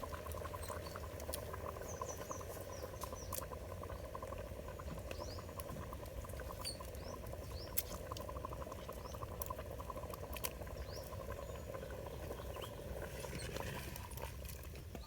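Bottle gourd and moong dal kootu simmering in a pot in a village kitchen, a steady bubbling patter that runs unbroken at a close, even level with no voices.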